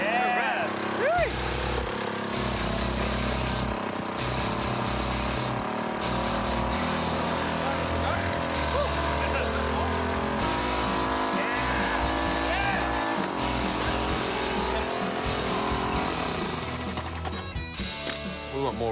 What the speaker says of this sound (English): I think we put an angle grinder on.